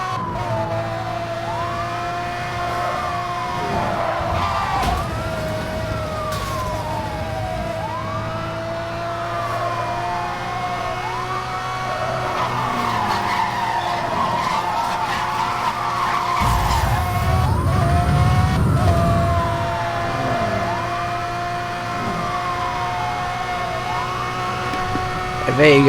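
A Lamborghini Murcielago LP640 in the racing game NFS Hot Pursuit, with engine revs rising and falling in repeated gear-shift sweeps, tyres skidding, sirens wailing, and a crash into a wall, all loud and close.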